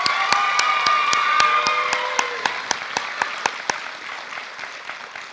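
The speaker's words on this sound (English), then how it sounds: "I just want to give him a round of applause." A crowd at a high school graduation ceremony claps and cheers, with sustained voices and whistles early that fade out. Sharp, regularly spaced claps continue alone toward the end.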